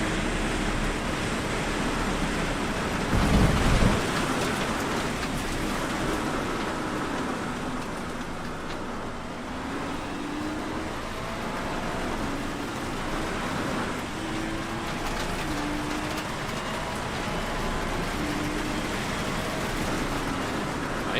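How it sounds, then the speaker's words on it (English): Steady rain pours down in a Bathurst 12 Hour racing video game, a continuous broadband hiss that holds evenly throughout, with faint engine tones gliding underneath. "I hear the rain coming down."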